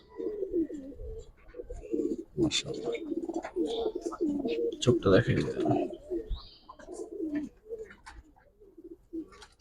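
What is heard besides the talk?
Giribaz pigeons cooing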